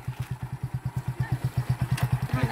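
Motorcycle engine running steadily with a rapid, even low thump from the exhaust as a beginner rider learns to pull the clutch and shift into first gear, close by with light mechanical clatter.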